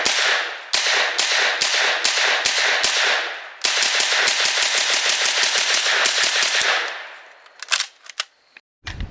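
A POF full-size MP5-style 9mm semi-automatic roller-lock firearm fires in rapid, loud, evenly spaced shots in two long strings, the first briefly paused before resuming, ending with a few scattered shots.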